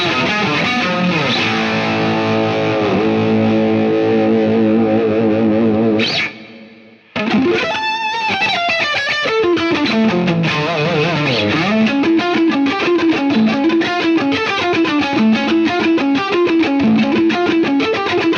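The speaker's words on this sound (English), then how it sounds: "For comparison, listen now to my Marshall YJM with the internal overdrive engaged." Electric guitar played through a Marshall YJM overdrive pedal with its internal overdrive engaged, loud and saturated riffing with sustained chords and fast runs, a brief dropout near the middle, no voices.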